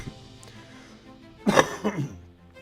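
A person coughs a few times in a short, harsh cluster after a quiet stretch, close and fairly loud.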